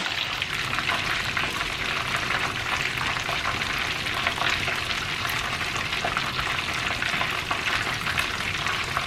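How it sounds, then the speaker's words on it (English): Constant crackling sizzle of chicken wings frying in hot oil, close and steady, with no talking. "right now we are still frying up our chicken"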